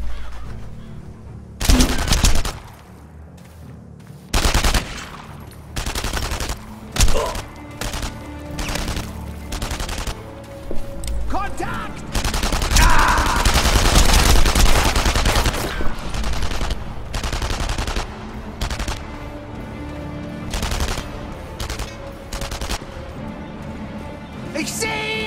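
Gunfire in the video game Enemy Front, aimed at the player, comes as repeated sharp cracks and short automatic bursts with uneven gaps. Faint voices mix in at times.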